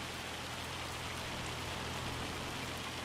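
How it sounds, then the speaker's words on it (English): Steady rain falls on a farm under clear, sunny skies, a continuous even hiss of drops on surfaces with no voices over it. "Raining and sunny at the same time"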